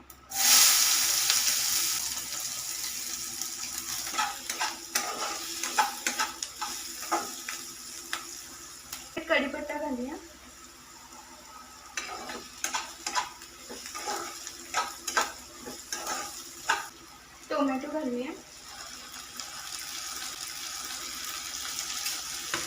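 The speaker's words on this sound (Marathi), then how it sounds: "तर कांदा यामध्ये घालूया" Chopped onion sizzling in hot oil in a pan alongside curry leaves, a crackling fry with scattered clinks and scrapes that rises and dips over time, no voices.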